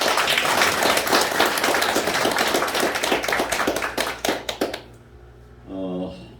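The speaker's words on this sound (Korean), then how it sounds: "모두 다 뜨거운 응원의 박수를 한번 보내주시기 바랍니다" Enthusiastic applause from a crowd at a political party chapter lecture in Gimhae, busy clapping that thins into a few scattered claps and stops, followed by a brief voice.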